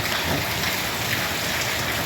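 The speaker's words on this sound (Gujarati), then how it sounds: "વરસાદ ચાલુ છે અત્યારે થોડો થોડો" Light rain falls steadily in a Gujarat village in September, a soft, even hiss of drops without pause and with no voices.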